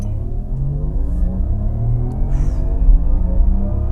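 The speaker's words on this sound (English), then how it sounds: "Left foot on brake, and just put your foot down the throttle" A Porsche Macan 4 EV in Sport Plus launches hard from a standstill, its electric drive building a rising whine over a deep rumbling road noise that swells steadily as it accelerates.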